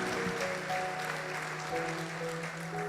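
Church congregation applauding during a family worship service, a steady wash of clapping that fills the room at a constant level, with a faint sustained musical tone underneath.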